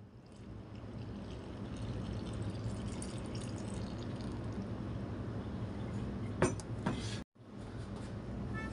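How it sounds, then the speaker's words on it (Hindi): Water is poured steadily into vanilla bar cake premix for a banana choco chip cake, a continuous soft splashing stream with a brief clatter near the end before a short pause. "हम वनीला बार केक जो प्रीमिक्स है इसमें हम पहले पानी डालेंगे।"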